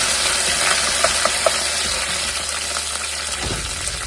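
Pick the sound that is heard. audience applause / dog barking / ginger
ginger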